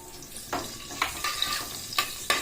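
Green chili drops into hot ration palm oil for pressure-cooker chicken biryani, bringing a soft steady sizzle with several sharp crackling spits and brief stirring clatters, close by and with no voices.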